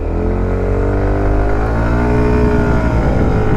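A 2025 SYM MMBCU 125 scooter accelerates uphill beside a car, its engine note rising in a loud, close, sustained whine as revs climb and the pitch sweeps upward throughout.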